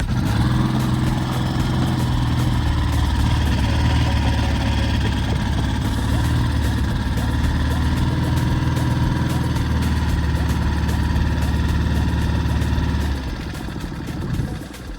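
Outboard motor that has not run in a while, running on choke: a loud, steady, close engine drone with a rough buzzing tone that drops and eases near the end, with no clear talk.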